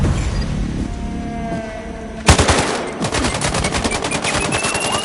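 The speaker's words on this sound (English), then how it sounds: "I just heard gunshots" A loud gunshot cracks, then rapid automatic fire rattles on in a steady stream, close and harsh, with game-like background tones, from the video game Sniper Ghost Warrior Contracts 2.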